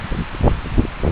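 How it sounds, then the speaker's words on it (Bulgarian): Strong wind on Mount Olympus at the Scala summit, about 180 feet below Mytikas, in cold, wet weather after night rain: a brief, loud, rumbling roar buffeting close by in uneven gusts. "духа изключително силен вятър"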